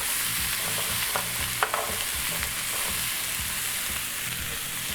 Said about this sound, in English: I want the harder vegetables, in this case, the onions and the celery, in the pan first.